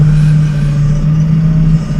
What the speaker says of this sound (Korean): 지게차 엔진 소리 그리고 현장의 소리 모든 걸 다 살렸습니다